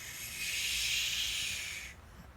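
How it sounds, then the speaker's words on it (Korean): A cold wind gust sweeps through a dark forest at night, a breathy hissing whoosh that swells, holds for over a second, then cuts off abruptly. "찬바람이 불고"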